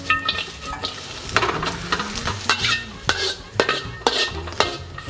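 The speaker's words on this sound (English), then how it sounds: "The peppers don't take long to start to cook through, so we only just want to cook this for just a few seconds" Bell peppers stir-fried in hot oil for Singapore noodles crackle and sizzle loudly, with repeated metallic scrapes and clanks of a utensil against the pan, no speech.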